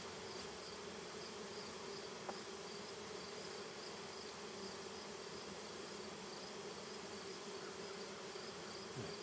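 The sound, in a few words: honey bees buzzing around an open hive during honey harvest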